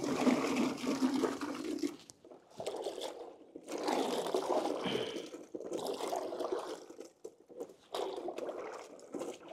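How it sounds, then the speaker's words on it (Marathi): Pointed gourds (parwal) are washed in clean water in a vessel for a large village-scale cooking batch, with repeated close splashing and sloshing bursts separated by short pauses. "आपण आता परवल स्वच्छ पाण्याने धुवून घेऊ।"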